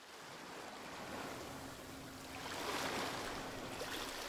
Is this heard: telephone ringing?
no